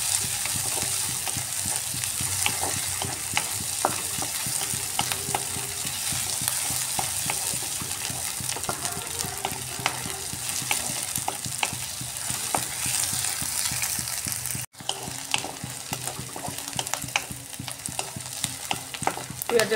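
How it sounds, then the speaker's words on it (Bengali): Chopped onions fry in a hot pan for a Bengali rohu fish and eggplant curry, with a steady sizzle and frequent scraping and clinking stirs of a spatula against the pan, close and continuous. "পেঁয়াজের কালারটা একটু চেঞ্জ হয়ে আসা পর্যন্ত পেঁয়াজটাকে এইভাবে ফ্রাই করে নিতে"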